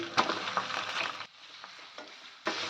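Chicken mince, washed and drained, tipped into a pan of golden-brown frying onions: a loud burst of sizzling and stirring that cuts to a quieter lull before the hiss surges back at the end.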